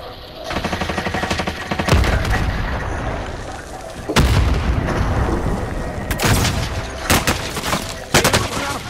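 Dense automatic gunfire and heavy booms fill a Call of Duty: Modern Warfare quads match, close and loud, with sharp shots breaking through a constant roar of battle.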